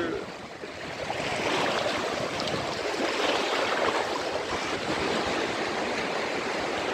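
Sea waves at Kalapathar Beach on Havelock Island wash in a loud, continuous broadband rush of surf, steady and close, with no clear voices over it.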